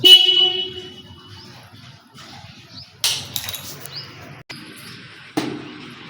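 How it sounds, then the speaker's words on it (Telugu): A motorcycle horn wired up directly to the bike's electrics sounds in a loud honk at the start, followed by shorter bursts after a quiet stretch. "ఇప్పుడు హారన్ వస్తుంది"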